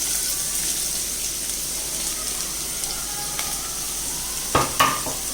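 Finely chopped onion sautés in a pan with a steady, fairly loud hiss, and a couple of sharp scraping knocks near the end; no voices.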